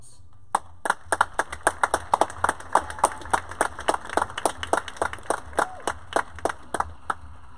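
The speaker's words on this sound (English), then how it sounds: "Please take a moment to recognize yourself with a round of applause." A small theater audience claps for the patrons of Ponca Theater, the sharp hand claps clear and fairly sparse and spread through the whole stretch at moderate loudness, with a voice faintly heard near the start.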